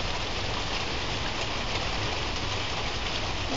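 Steady rain pours down during a storm, a dense, even hiss of drops on surfaces with no break or variation, close and fairly loud throughout.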